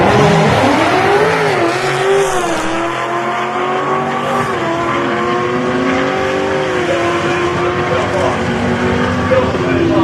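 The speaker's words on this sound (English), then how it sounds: "She'll line up with Andy with the right-hand drive Supra." Drag racing cars, a Camaro in the 1050 class and a right-hand drive Supra, run at a motorsports park, with loud sustained engine roar and rising revs filling the whole stretch, and an announcer talking over it.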